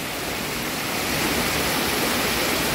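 Spring water pouring down from rocks into a little-known river in Mercedes Umaña, Usulután, El Salvador: a steady, full, broadband rush of flowing water, close and continuous, with no voices.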